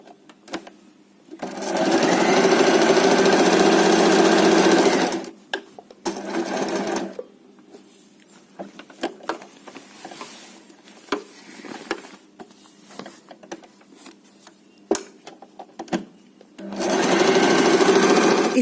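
A sewing machine stitches a colorful cloth table runner made from leftover fabric pieces, running in a loud, close burst for a few seconds, then pausing amid handling noises and short stitches before a final steady run.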